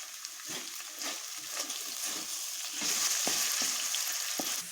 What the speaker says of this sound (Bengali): এগুলোকেও আমি একই রকমভাবে লাল লাল করে ভেজে নিচ্ছি